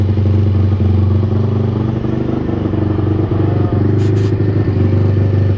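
A Honda TRX450R ATV engine idles steadily through its cam break-in, a loud, continuous four-stroke thrum with a light mechanical clatter running throughout.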